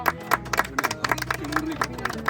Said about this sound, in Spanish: Aplauso para los asadores, los cocineros.